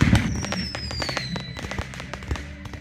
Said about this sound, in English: People spend thousands of dollars on their own personal fireworks when they're going to be setting it off for the town